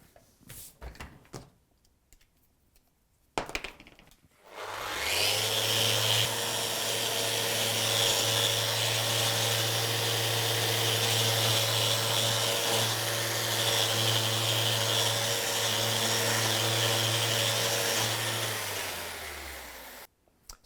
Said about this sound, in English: we've just finished off all the electric sanding